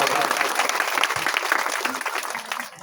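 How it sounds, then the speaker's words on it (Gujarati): Loud, dense applause from a crowd at a village gathering holds strong, then thins slightly toward the end. Faint voices mix into the clapping. "તાળીઓના ગડગડાટથી વધાવો"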